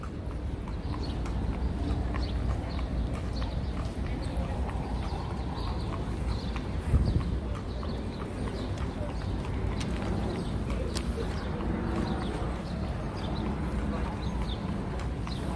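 Horse carriage hooves clip-clop steadily on a New York street in Manhattan near Central Park, a continuous rhythmic clatter amid city ambience with people talking nearby.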